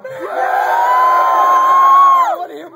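A concert crowd at a metal show in Tempe, Arizona screams and cheers in one loud, sustained roar of high yells lasting a couple of seconds before cutting off.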